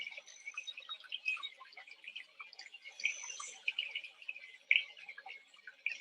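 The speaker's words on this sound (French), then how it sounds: "aucun bruit à part celui de cette forêt tropicale, l'eau, les petits oiseaux" Tropical forest ambience with small birds chirping and tweeting in many quick, high calls, and soft ticking, dripping water sounds, steady and fairly faint throughout with no talking.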